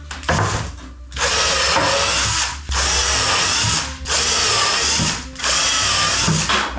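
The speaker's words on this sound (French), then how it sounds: "Je pense que je vais pouvoir visser celui-ci." A power drill drives a screw into a board while a wooden scrap bin is built, whirring loudly in four sustained bursts with short gaps between them, close up.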